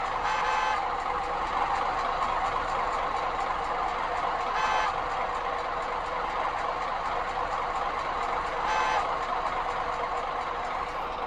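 In the Bus Simulator Indonesia game, a Hino truck engine drones steadily up close, with a repeating reversing beep chiming in three short bursts through the clip; no voices.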